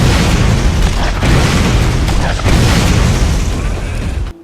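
Rocket explosions in the video game Borderlands, loud continuous booming blasts during a boss fight, with a voice talking faintly under the rumble.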